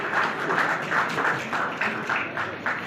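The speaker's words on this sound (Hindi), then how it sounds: "तालियों की गड़गड़ाहट के साथ इस विमोचन के साक्षी बने" An audience at a book release event in Karnal applauds, moderate group clapping rising and falling in soft rhythmic waves, somewhat distant and not very loud.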